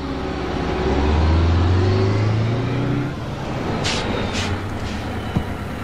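A bus drives up with a loud, close engine roar that swells and then eases off, and a lighter hiss of passing traffic follows.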